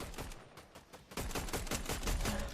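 Rapid bursts of gunfire in a shooting video game, dense repeated shots with some sounding distant, continuous and moderately loud with no talking.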